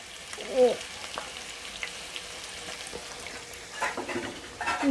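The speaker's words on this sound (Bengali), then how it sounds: "এবার এতে আমি পেঁয়াজটা যে কুচিয়ে রেখেছিলাম সেই পেঁয়াজটা দিয়ে দেব।" Chopped onions fry in mustard oil for a chicken keema, giving a faint, soft sizzle with occasional clinks and stirring scrapes, quiet and steady throughout.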